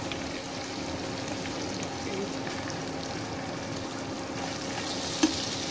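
Minced mutton keema fries in oil in a pan, giving a steady, even sizzle that holds throughout with one brief clink near the end and no talking.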